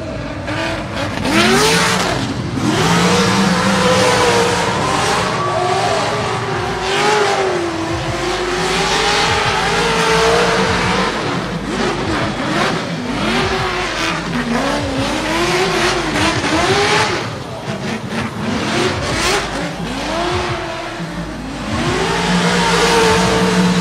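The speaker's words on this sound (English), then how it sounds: "our first driver in Group C from Malaysia, Tengku Janlei, driving the Nissan 180SX." A Nissan 180SX drift car at a drifting competition run revs hard and squeals its tires continuously, engine pitch rising and falling through slides, loud and close throughout with no talk.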